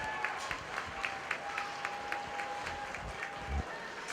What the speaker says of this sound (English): let's give them a nice round of applause as they go back